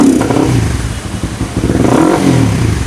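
A Yamaha Jupiter Z (Juken 5) motorcycle engine being started and revved, loud close rumbling with a rising and falling rev and mechanical clatter throughout, no talk.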